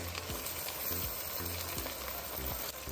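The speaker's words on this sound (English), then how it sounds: "you want to go ahead and start adding your cabbage. So just add it in there" Cabbage tossed into a frying pan with ham, giving steady close sizzling with repeated low thumps and stirring scrapes throughout.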